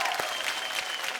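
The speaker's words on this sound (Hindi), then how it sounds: "जोरदार तालियों के साथ स्वागत कीजिए" Audience on a comedy show stage clapping loudly to welcome a young dancer, dense rhythmic applause with sharp individual claps punching through, a voice briefly audible beneath.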